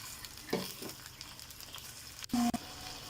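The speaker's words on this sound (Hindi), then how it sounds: "चार से 5 मिनट हम इसे अच्छे से भून लेंगे।" Chicken strips cooking with golden brown onions in a pan, a soft steady frying hiss with scattered stirring knocks and a couple of louder utensil clanks near the end.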